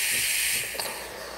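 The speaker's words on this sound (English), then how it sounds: "And as you can see, steaming power is pretty decent." A Breville Barista Pro espresso machine's steam wand blows a steady, loud hiss of steam that eases off slightly partway through, with no talking.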